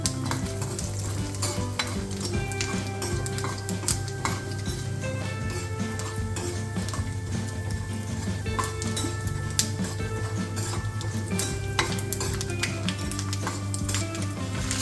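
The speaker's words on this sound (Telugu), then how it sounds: "పోపు వేయించుకుందాం" A tempering of chana dal, urad dal, mustard seeds and cumin fries in hot oil, giving a steady close sizzle with scattered crackles and occasional clinks of a spoon against the pan, no voices.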